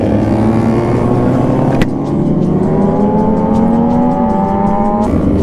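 Several motorcycles ride along together, with a loud, sustained engine drone and rising and falling pitch as the bikes accelerate and pass close by, and wind rushing over the recorder.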